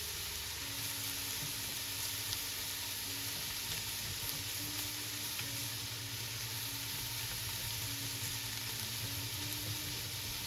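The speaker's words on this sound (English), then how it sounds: "I'm going to put in my spices now, just to heat them through just a little tiny bit." Spices sizzling in a hot pan for meatball soup, a steady, even crackling fizz that runs unbroken throughout, with a low background hum and no talking.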